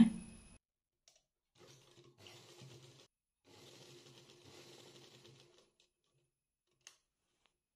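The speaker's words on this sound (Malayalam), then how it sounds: "ഇവിടെ വരെ തയ്ച്ചെടുക്കാം തയ്ക്കുമ്പോൾ രണ്ട് സ്റ്റിച്ച് കൊടുക്കണേ" A sewing machine stitches a churidar top in two short whirring runs separated by a brief pause, close and fairly quiet, with a faint click and near silence around them.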